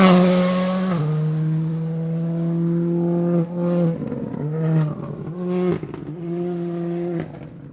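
A rally car drives through a stage of the Gippsland Rally at speed, its loud engine note holding steady, dropping briefly at gear changes and cutting out several times, close and with no talk.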